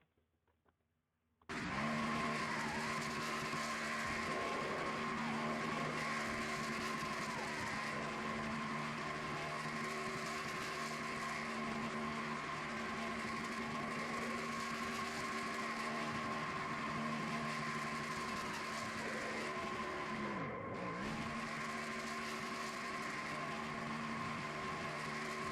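The number 71 race car doing a tire-squealing burnout at Kansas Speedway in a racing video game: a loud, sustained engine roar with a steady whine kicks in abruptly and holds for over twenty seconds, dipping briefly once.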